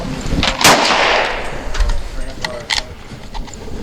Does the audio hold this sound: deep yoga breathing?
no